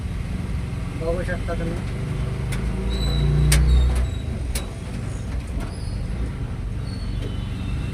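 A rainy traffic jam on Hadapsar road in Pune, with the low rumble of idling cars and engines swelling briefly, a few sharp clicks, and someone talking over the road noise.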